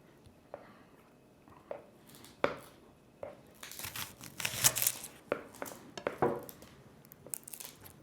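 Onions being chopped with a knife on a board in a home kitchen: a few sparse cuts, then clusters of quick, crisp chops with pauses between them, all fairly close.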